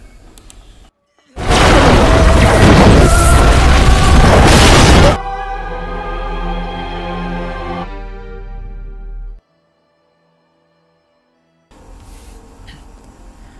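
A bomb explodes in the Hong Kong police action film New Police Story: a loud, sustained blast roar lasting several seconds, then a ringing, tonal aftermath that cuts to silence before faint sound returns.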